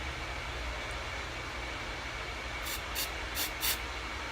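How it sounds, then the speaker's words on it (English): Several short sharp bursts of CA glue accelerator spray hiss into a wooden pen blank for a 30 caliber bolt action pen, four quick puffs near the end over a steady background noise. "So we're going to shoot just a little bit of accelerator into the blank."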